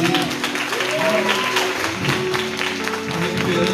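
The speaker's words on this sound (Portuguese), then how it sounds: "Pode aplaudir a Deus pela vida do Elviro." A church congregation claps during a communion service. The applause is steady and moderately loud, with voices and some sung or called-out tones mixed in.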